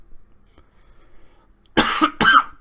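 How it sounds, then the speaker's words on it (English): A man coughs twice in quick, loud, harsh bursts, close and alone after a near-silent stretch. "this cough's been hitting me for about 3 weeks now"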